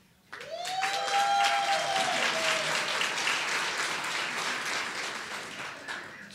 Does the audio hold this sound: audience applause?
yes